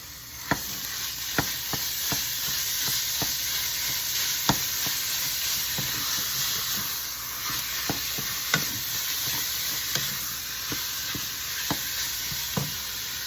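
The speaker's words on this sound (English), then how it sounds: "we have to stir that ground beef until it was no longer pink" Ground beef sizzles and fries among sautéed, caramelized onions in a pan as it is stirred, with a steady frying hiss throughout and sharp utensil clicks and scrapes recurring every second or so.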